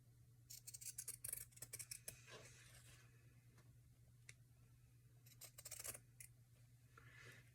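Scissors snip through a paper journal cover in short clusters of crisp cuts, pausing between bursts, close and fairly quiet over a steady low electrical hum.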